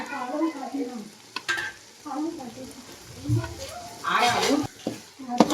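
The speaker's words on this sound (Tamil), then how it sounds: "இப்போ தயிர் ஊற்றுறாங்க" Curd goes into a tomato masala frying for biryani, with soft sizzling and stirring close by. A person talks over the cooking throughout.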